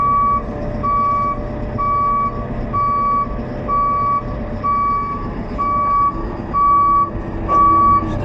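A heavy haulage truck with modular trailers reverses while its alarm gives regular evenly spaced beeps about twice a second over a loud, close diesel engine rumble that swells near the end.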